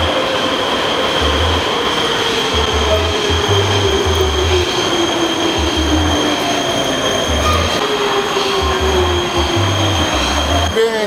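A Prague metro train rumbling steadily along the track, with a loud continuous roar, a pulsing low rhythm and a faint rising whine throughout, and no voices.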